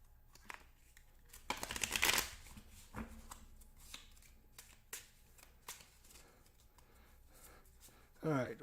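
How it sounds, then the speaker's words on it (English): A deck of road-event cards for the Folklore: The Affliction board game is shuffled in several bursts of riffling and flicking, loudest in one brief flurry early on, with softer card handling and taps in between. "we'll shuffle this up one last time for you guys"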